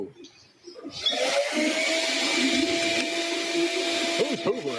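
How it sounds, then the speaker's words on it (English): A vacuum cleaner runs nearby, starting after a second and holding a steady, loud whine with a tonal hum throughout, with a few brief vocal sounds near the end. "Who's hoovering?"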